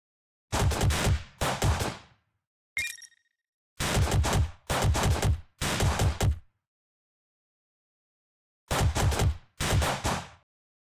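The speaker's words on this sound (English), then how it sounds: "this video shows both enemies being killed by the rifle" Rifle fire in a video game, short bursts of rapid shots in separate volleys with silent gaps, plus one small electronic chime, loud and dry.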